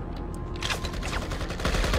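Rapid bursts of automatic gunfire ring out in the Project IGI video game, Mission 13 Nuclear Infiltration, as a dense, continuous rattle of overlapping shots that grows louder toward the end.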